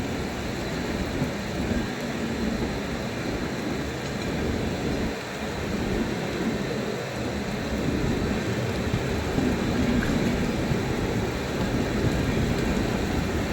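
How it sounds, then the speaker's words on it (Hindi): Heavy rain beats on a special express train running near Ghaziabad, forming a steady, dense hiss blended with the continuous rumble of the moving carriages and no voices. "बारिश भी तेज़ हो गई है"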